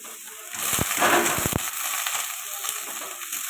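Onion and boiled ridge gourd peel drop into hot oil in a pan, giving a burst of crackling sizzle with a few sharp pops, then settling into a steady frying hiss.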